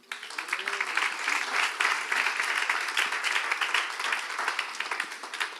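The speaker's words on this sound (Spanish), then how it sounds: "Así que otro aplauso a Andrés." An audience applauds together for a few seconds at a church gathering, a dense, even wash of clapping that holds steady from start to finish.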